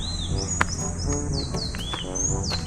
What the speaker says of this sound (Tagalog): Ang ganda naman ng huni na yun.